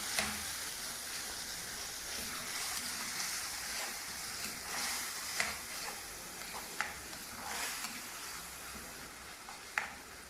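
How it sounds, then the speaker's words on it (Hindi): Mutton for tamatar gosht browns with ginger-garlic paste in a pan, giving a soft, continuous sizzle with occasional sharper spatter pops and light stirring scrapes, fairly quiet and close. "इसको अच्छी तरह भून लेंगे।"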